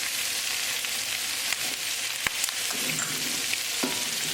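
Lobster tails and vegetables sizzle in a pan as salt, black pepper and cumin are stirred in, a steady frying hiss with a few soft scrapes and clicks of the utensil.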